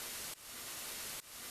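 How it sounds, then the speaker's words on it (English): An Ableton drum sound shaped with sine wave FM synthesis, heard as a harsh, noisy hiss that restarts twice in quick succession and keeps a steady level between the hits. "you'll start to introduce a little bit of sine wave FM synthesis into this sound"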